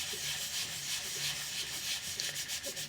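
Pumice paste rubbed against a pen blank on a fast-spinning lathe makes a steady, close abrasive hiss that continues unbroken throughout.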